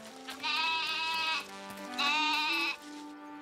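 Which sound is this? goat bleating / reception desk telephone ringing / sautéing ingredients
goat bleating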